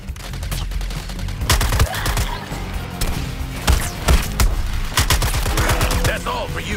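Gunfire in the video game Suicide Squad Kill the Justice League, with rapid bursts of shots and heavy thumps repeating loudly in clusters, plus faint game voices in the background.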